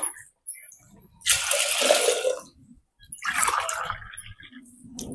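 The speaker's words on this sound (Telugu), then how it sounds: "3 గ్లాసులు నీళ్ళు వేస్తాను." Water poured from a glass onto chana dal in a pot for boiling, two distinct splashing pours of about a second each separated by a short pause, close and loud.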